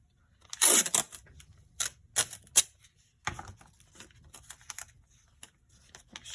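Big, wide masking tape from a hardware store being pulled and torn off the roll, one long rasping rip followed by shorter tearing and crackling bursts at close range, no voices.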